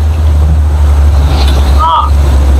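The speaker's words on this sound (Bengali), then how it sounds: "বোটের স্পিডও কিন্তু বাড়াই দিচ্ছে এখন" A motorboat on the river at Char Kukri Mukri, Bhola, runs with a steady, loud low engine drone, and a voice speaks briefly over it.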